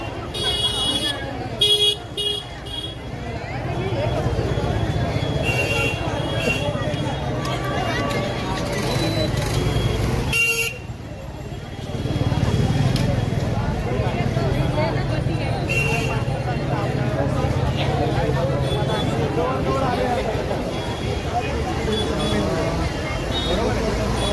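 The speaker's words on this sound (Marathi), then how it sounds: "स्टेशन रोड रोडलासुद्धा भरपूर गर्दी आहे लोकांची खरेदी चालू आहे" A crowded Diwali market street on Station Road in Thane, with a dense murmur of shoppers, passing vehicles and occasional horn toots, plus a nearby voice talking over the bustle.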